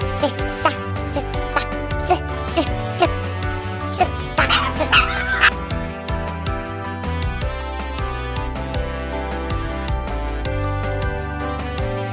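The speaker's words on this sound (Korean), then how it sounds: "어느 집게가 짖는겨" Cartoon dog barking in a Dooly the Little Dinosaur yard-sweeping scene, several short yips and bow-wows mixed into busy background music.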